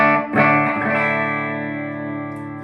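A Squier Classic Vibe Jazzmaster electric guitar on its bridge pickup, clean through an amp with a little reverb, strikes a bright strummed chord that rings out and slowly decays.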